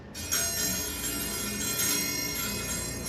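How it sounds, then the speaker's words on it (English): A metal chime in the closet of an old hotel room in Austin rings out with bright, sustained metallic tones and a couple of renewed strikes, close and fairly loud, with no talk. "Check out this chime."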